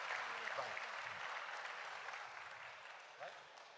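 Outdoor audience applause at a live music event in Ollolai, a steady, dense wash of many hands clapping at moderate distance, easing slightly toward the end with faint voices beneath.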